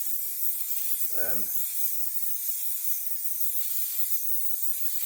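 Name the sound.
spray nozzle spraying a roof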